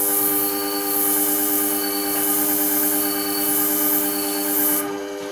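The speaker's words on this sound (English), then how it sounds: "So now we get on with the sharpening process." Scissor blade being sharpened to remove a nick, a continuous close grinding hiss with a steady ringing tone that swells and eases in slow passes, then stops abruptly near the end.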